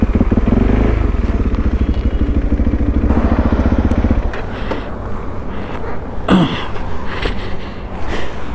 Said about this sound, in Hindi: तो थोड़ा सा पापा चलाएँगे बाइक को, आगे खड़ी करता हूँ थोड़ा सा।